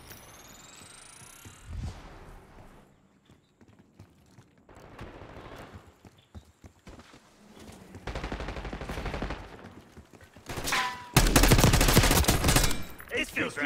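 Call of Duty Black Ops 6 multiplayer gunfire: scattered shots and short bursts building to loud sustained automatic fire near the end.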